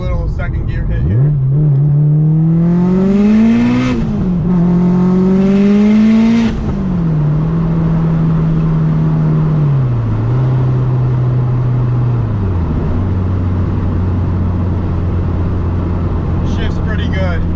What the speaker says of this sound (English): we'll do a little second gear hit here.